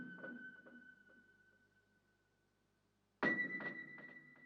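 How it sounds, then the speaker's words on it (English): Higher single-note piano sample with reverb, two struck notes separated by a pause, each decaying slowly, with the second louder and brighter, heard alone. "I just used a 1-note piano"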